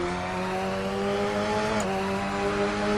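A Radical SR3 XXR race car engine in Assetto Corsa holds a high, thin whine at sustained revs with a brief dip midway, close and continuous, with no talking.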